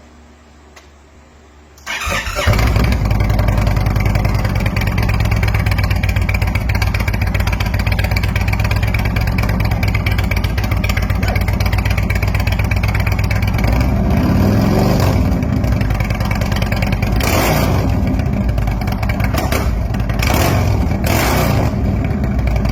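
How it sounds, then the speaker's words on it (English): A hot rod engine fires up through Tab Performance mufflers with zombie baffles and settles into a loud, steady, rumbling idle with a few throttle blips near the end. "badass mufflers from Tab Performance with the zombie baffles"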